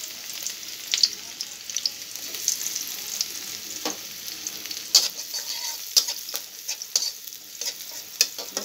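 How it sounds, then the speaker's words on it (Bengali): Garlic sizzles and fries steadily in a hot karahi wok, with a dense, even crackle of oil and scattered sharp spatters and stirring clicks close by, no voices. "রসুনটা আগে একটু ভাজা ভাজা করে দেবো"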